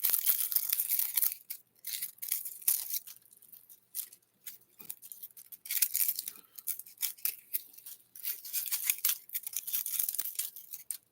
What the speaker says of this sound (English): Another toothbrush for Howie.